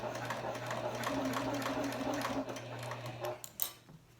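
A Janome HD9 sewing machine runs a line of stitches, a close, steady mechanical hum and rapid needle chatter for about three seconds, then slowing and stopping with a few clicks and handling sounds.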